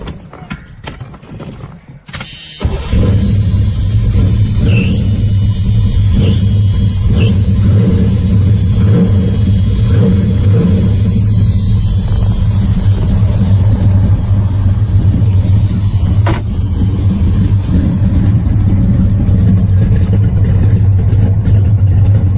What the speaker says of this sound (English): That's your factory exhaust sound that I have, or through the mufflers, I should say.